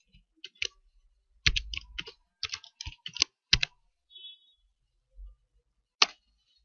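Keys clicking on a computer keyboard as a MATLAB command is typed, a sparse, irregular series of quiet close taps separated by short pauses.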